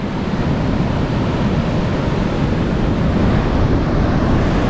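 Ocean waves roll onto an empty beach in a New South Wales national park, heard as a continuous, loud broadband roar of surf with no breaks or voices.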